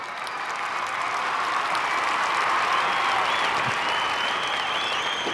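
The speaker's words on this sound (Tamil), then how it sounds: "ஒருத்தர் எழுந்துலாம் கை தட்டுறாரு" A large audience applauds dance contestants at a televised dance competition grand finale, a dense, loud wash of clapping that stays steady throughout, with a faint cheer or whistle rising near the end.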